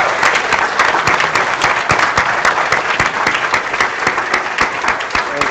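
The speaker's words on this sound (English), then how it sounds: "I owe him a huge round of applause" Steady, loud applause from a crowd at the AGDQ 2014 speedrun event, dense clapping that continues throughout without a break.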